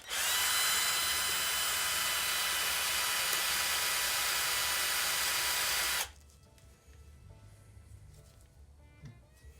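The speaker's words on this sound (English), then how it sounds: "Carbide drill, so no problem there" A cordless drill with a carbide bit bores into a Honda VF750F motorcycle cylinder head, a loud, steady, high-pitched whine lasting about six seconds, then it stops abruptly and faint workshop clatter follows.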